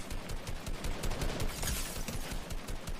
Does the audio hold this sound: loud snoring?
no